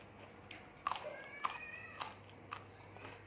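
Crunchy snack being bitten and chewed close up, several sharp crisp crunches spaced about half a second apart over a quiet background.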